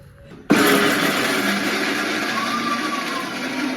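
An electric kitchen mixer grinder kicks on abruptly after a quiet moment and whirs loudly and steadily as it grinds peanuts, ginger, garlic, whole spices, salt and coriander powder, its pitch wavering slightly as the load shifts.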